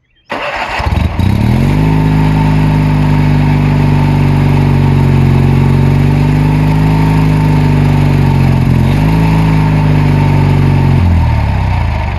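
A treadmill motor rigged to grind tree stumps starts up with a sharp jolt, then settles into a loud, steady whine and hum with a slight dip in pitch partway through before cutting off near the end.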